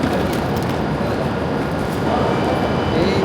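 Train at a station in Japan, a loud continuous rumbling roar with wheel noise, with faint voices in the background.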